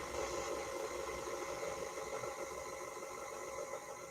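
An electric mixer runs steadily while mixing banana muffin dough, a constant faint whirring hum with slight fluctuation and no talking.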